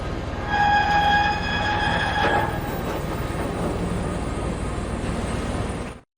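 A train rumbles steadily with a high metallic squeal over the first couple of seconds, then the noise carries on evenly before cutting off.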